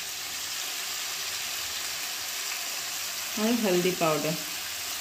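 Small pieces of potato fry with salt in a pan, making a steady, close hiss and sizzle throughout, while someone speaks briefly toward the end.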